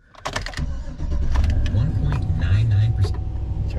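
A Chevy Express passenger van engine cranks and catches, then settles into a steady, close, rumbling idle while a voice talks over it.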